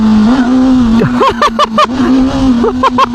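A Honda CB500SF four-cylinder street motorcycle accelerates hard in sport mode, its engine note rising and shifting through gears, loud and close, with a rider's excited exclamations breaking in.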